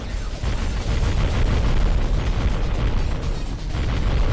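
Dense, continuous rumbling explosions and bursts from being shot at in the underwater combat game AquaNox, loud and unbroken with no clear gaps between impacts.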